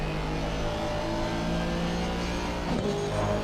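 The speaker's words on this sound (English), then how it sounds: "Hear the roar of that Aston Martin getting chased down by a Honda" Aston Martin race car engine roaring steadily in a close Assetto Corsa Competizione race at Zandvoort, with a Honda chasing right behind; a pitch sweep near the end suggests a car passing.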